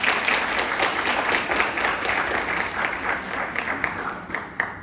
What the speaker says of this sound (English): I think you should give a round of applause to all of them.